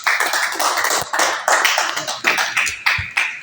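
A small audience at a student presentation claps, with uneven bursts of hand claps and taps arriving in irregular clusters, fairly close and without talk.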